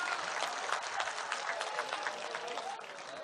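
A crowd applauds with dense, steady clapping that holds for a few seconds before easing slightly at the end, at a mushaira poetry gathering in Banaras.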